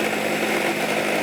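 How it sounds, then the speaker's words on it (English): A mixer grinder blends a green Hariyali marinade into a smooth paste, giving off a steady, loud whirring drone that stays constant and continuous with no pauses. "Let's grind this into a nice and smooth paste"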